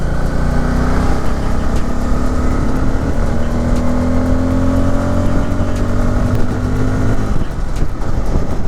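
A Bajaj Pulsar N250 motorcycle accelerates under load, its engine note climbing steadily in pitch through the gears, loud and close with continuous roar and a brief dip near the end.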